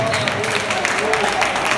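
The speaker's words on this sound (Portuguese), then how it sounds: "Aplauda o Senhor bem forte." A church congregation claps loudly and continuously, a dense wash of applause with a voice speaking over it throughout.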